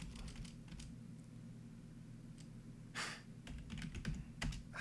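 Computer keyboard typing in quick uneven bursts of light clicks, near and fairly quiet over a steady low room hum, with no talking.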